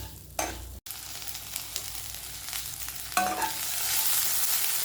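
Okra fries in oil in a pan, giving a steady close sizzle with brief stirring scrapes and a couple of louder bursts as pieces are moved, before it swells slightly near the end.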